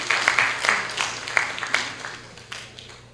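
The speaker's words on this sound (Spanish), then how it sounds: "A ver, lo recibimos con palmas," Audience applause at a criminal procedure law seminar in a hall, a modest scattered round of claps rising and fading over a few seconds with a steady low hum underneath.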